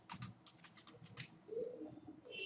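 Rapid light clicks of computer keys typing a short word, a quick burst of close taps followed by a brief pause, with a faint cooing bird in the background.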